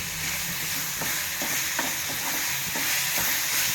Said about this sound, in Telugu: ఈ ఉల్లిగడ్డలు అవి లైట్గా ఫ్రై అయినాయి ఇట్లా ఉండాలండి